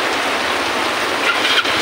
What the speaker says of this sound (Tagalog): Kita na, napakalakas ang ulan.